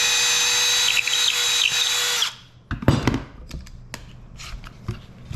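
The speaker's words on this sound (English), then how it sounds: "then just drill my pocket hole" A power drill whines steadily at high pitch for about two seconds, then stops, followed by scattered knocks and handling clatter of wood.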